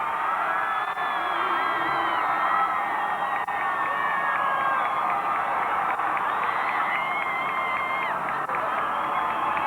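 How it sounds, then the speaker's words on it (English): Fans at the Naperville Central vs. Schaumburg Illinois Class 6A high school football state championship cheer steadily as a loud, continuous crowd roar, with whoops rising and falling throughout. "lots of fans cheering on their support"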